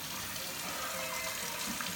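Water runs steadily from a sink faucet, a continuous close hiss and splash that holds without a break.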